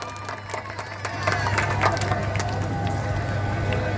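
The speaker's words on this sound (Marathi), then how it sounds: "टाळ्या होऊ की टाळ्या" Crowd at a village wrestling match in Bhandarakavathe, Maharashtra breaks into applause and cheering, starting softly then swelling into sustained clapping from a large gathering with a steady low hum underneath.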